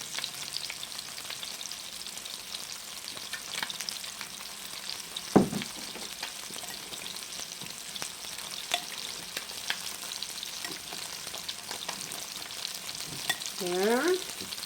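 Zucchini fries in olive oil in a pan, a fairly quiet, steady crackling sizzle close by with a single sharp clack partway through and a brief voice near the end.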